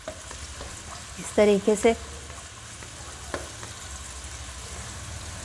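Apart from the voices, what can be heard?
sautéing grated ingredient in hot oil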